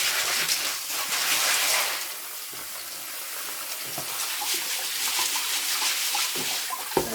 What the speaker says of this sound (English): So let's just give these a quick rinse.